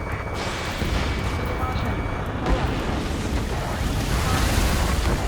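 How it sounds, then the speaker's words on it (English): A dense, rumbling roar of jets and gunfire echoing through city streets in the video game Ace Combat 7: Skies Unknown, loud and continuous with booming low-end energy. "Gunfire and the roar of jets echoing through the streets."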